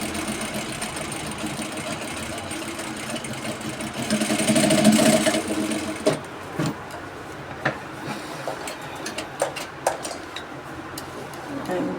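A sewing machine stitches a dress in a steady whirring run that swells briefly, then gives way to scattered clicks and short bursts as stitching pauses and restarts.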